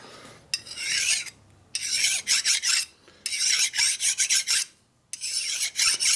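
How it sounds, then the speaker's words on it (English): A fine file rasps a Linkert carburetor part flat on a 1942 Harley WLC/WLA, with close, loud scraping strokes in rhythmic bursts separated by short pauses and no speech. "Make sure you grab your fine file,"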